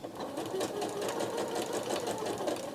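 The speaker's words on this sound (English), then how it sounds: "So if I do some sewing," A Janome Skyline S9 sewing machine stitches at a steady pace, its even, rapid needle rhythm continuous and close throughout.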